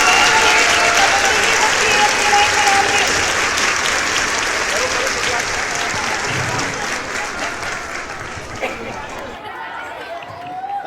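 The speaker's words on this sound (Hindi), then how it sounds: "तालियां" An audience at a school prize distribution for KG through high school pupils claps in a dense, sustained round of applause that gradually thins and fades toward the end.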